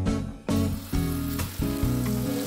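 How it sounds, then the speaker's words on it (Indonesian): Ground spice paste sizzles steadily in hot oil in a pan for chicken garang asem, with several stirring scrapes breaking up the continuous frying hiss; loud and close, no talking. "Tumis bumbu halus hingga wangi."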